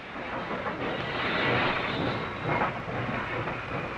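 A freight train rolls steadily through a rail yard, a continuous broadband rumble and hiss with faint clatter of wagons, fairly loud and even throughout.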